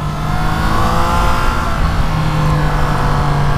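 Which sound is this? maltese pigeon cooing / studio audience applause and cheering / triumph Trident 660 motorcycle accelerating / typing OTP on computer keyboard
triumph Trident 660 motorcycle accelerating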